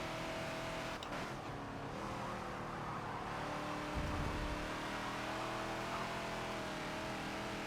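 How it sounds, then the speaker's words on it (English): Steady engine roar of a Ford Falcon XB race car at high revs at Watkins Glen in the Forza video game, with a brief burst of tire noise as the rear slides, continuous and close with no voices. "If you listen to the tires, you'll hear in the tires when the rear is starting to step out."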